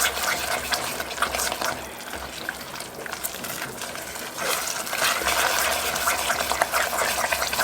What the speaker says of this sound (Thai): คนให้เนยละลายนะคะ